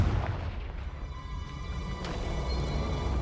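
The Confringo blasting spell in the video game Hogwarts Legacy lands as a deep, rumbling boom that rolls on over a low game background, with a fainter crackle near the middle.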